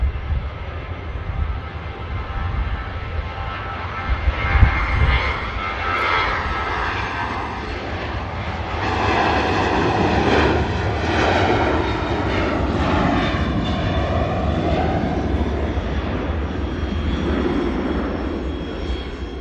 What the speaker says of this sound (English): Off she goes, the Ryanair 737 with them split scimitar winglets